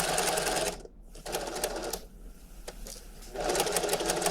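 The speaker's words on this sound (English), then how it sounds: "we sew from one end to the other" Sewing machine stitching the side seam of a waistcoat in bursts, a loud rapid rattle that pauses briefly twice, then resumes at full speed.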